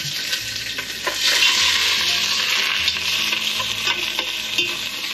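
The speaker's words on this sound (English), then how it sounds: "I'm just going to fry up my curry leaves in there first." Curry leaves frying in a big knob of coconut oil, a loud, steady close sizzle and crackle with stirring scrapes, no talk.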